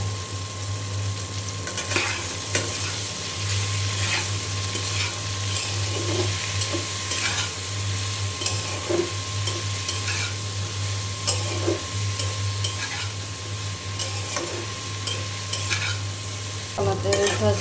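Eggplant, taro and shrimp sizzle steadily in a pan for the whole stretch while a spatula stirs and scrapes through them, with a constant low hum beneath the frying.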